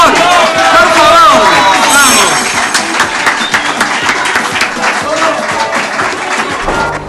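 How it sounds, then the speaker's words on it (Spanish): A studio audience gives two people a loud burst of applause, dense clapping and crowd noise sustained for several seconds before tapering off, with some voices mixed in. "Fuerte el aplauso para los dos, por favor."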